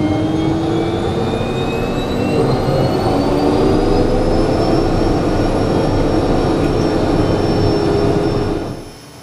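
Kodiak aircraft turboprop engine at low idle, a loud steady drone with a high whine that rises slowly, heard close up and then dropping off at the end.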